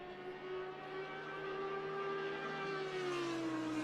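A Chevrolet race car engine in a racing video game at Imola, a steady sustained drone with a slowly shifting pitch that dips slightly near the end.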